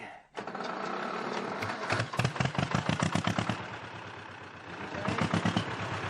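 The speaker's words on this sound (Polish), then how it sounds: "Z lubością wsłuchuje się w warkot silnika" An old tractor engine chugs loudly and close by, a steady rough rumble with a rapid rhythmic pulsing that swells and eases.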